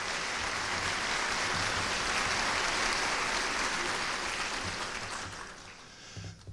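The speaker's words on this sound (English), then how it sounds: "So if you'd give them a kind set of applause as well." A crowd applauds steadily at a university president's fall welcome address, a dense wash of clapping that holds for several seconds, then thins out and fades near the end.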